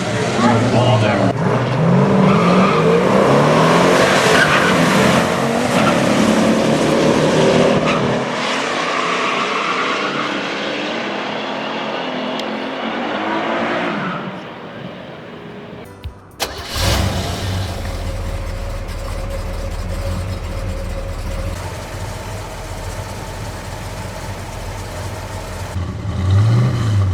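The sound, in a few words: Buick GS 455 Stage 1 muscle car racing quarter mile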